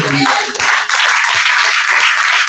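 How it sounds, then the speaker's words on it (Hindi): A church congregation at a worship service claps for the Lord, a loud burst of brisk, dense handclapping that continues steadily for a couple of seconds, with a voice faintly heard at the very start. "ताली बजा दो प्रभु को"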